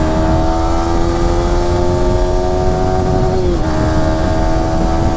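A Yamaha R15M motorcycle revs loud and close, its steady engine note climbing in pitch, dipping briefly at a gear change and pulling on, with no talk.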